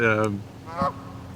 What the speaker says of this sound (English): geese are funny in the background.